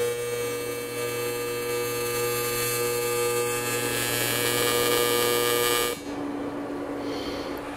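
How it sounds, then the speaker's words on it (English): Fusion welding along the inside of a formed metal panel on a car-body buck, a steady, loud hissing hum with bright tonal lines that runs continuously for about six seconds and then cuts off abruptly, leaving quieter background noise. "And now I'll fusion weld the inside of this."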